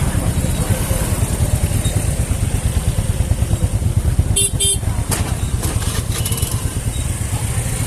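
A motorcycle engine idles nearby with a steady rumble at the Global Vipassana Pagoda in Mumbai, while people talk and a horn gives a couple of short toots.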